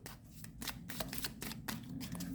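Tarot cards riffle and slap in quick, crisp bursts as a deck is shuffled close to the microphone, about seven or eight brisk flurries with no talking.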